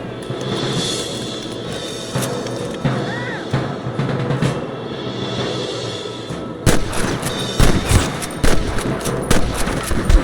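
Gunfire in a Wild West shootout in the video game Red Dead Redemption, irregular bursts of rifle and pistol shots, with sharper, denser volleys in the final seconds.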